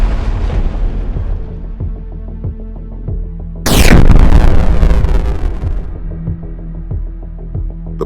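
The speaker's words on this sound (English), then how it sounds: "The shot hit its mark, igniting the charge and causing a massive explosion." A sudden loud blast erupts midway over a throbbing mechanical rhythm, with a roaring wash of noise that slowly fades back into the steady pulsing.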